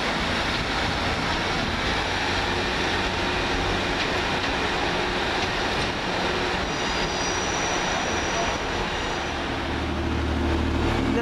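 A Northern Rail class 150 diesel train pulls out of Huddersfield station for Sheffield. The engine drones in a continuous rumble, wheels rattle, and the engine note rises and strengthens toward the end, with no talking.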